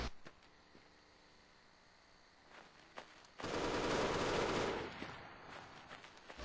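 Gunfire in a video game firefight: scattered faint shots, then a loud sustained burst of rapid automatic fire lasting about a second and a half, fading into more distant shots.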